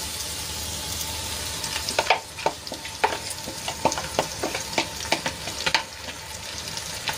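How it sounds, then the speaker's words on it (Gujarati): Onions frying in a pan as a masala and yogurt paste is stirred in, with a steady sizzle under a quick run of scraping, clacking spoon strokes, close and fairly loud, and no voices. "તો પેસ્ટને સરસ રીતે ડુંગળીમાં મિક્સ કરી લઈશું."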